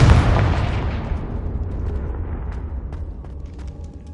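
A Confringo explosive spell goes off in a video game: one loud, booming blast at the start that rolls into a long, rumbling decay, with faint crackles fading out over several seconds.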